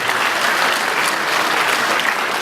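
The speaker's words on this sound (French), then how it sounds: "Et ça doit s'applaudir" An audience applauds a married couple celebrating 42 years of marriage at an evening party, dense steady clapping filling the room without pause.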